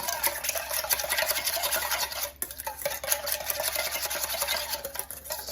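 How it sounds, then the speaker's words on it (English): Olive oil whisked into a Greek-style chicken salad dressing in a bowl, producing a rapid, continuous close scraping and clicking stir with a brief dip midway. "And I am gonna add just a little bit of olive oil. I don't want it to be too thin and too mushy. So whisk this together too."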